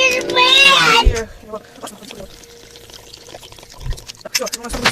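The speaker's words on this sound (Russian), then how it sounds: "Сейчас мы заливаем воду." Water pours into a pot of potatoes over an outdoor campfire, a brief gushing splash amid clatter and scraping, with someone talking loudly at the start.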